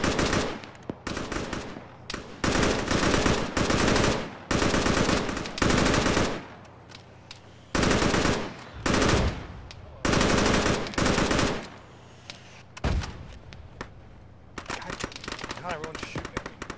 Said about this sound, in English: God, everyone's shooting at me.